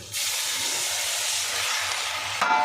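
Chicken pieces dropped into a hot pan with chili for Tamil Nadu style pepper chicken, setting off a loud, steady hissing sizzle that holds for a couple of seconds.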